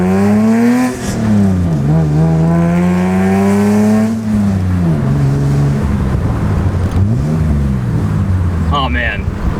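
A BMW E30 engine revs repeatedly while the car drives, its pitch climbing and falling in several sweeping pulls, close and loud, with a voice at times over it.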